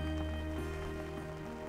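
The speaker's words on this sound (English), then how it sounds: "I love it when it rains." Rain falls at a canyon-view campsite in Moab, a steady soft patter that stays at the same level throughout, with a low continuous hum underneath and no one speaking.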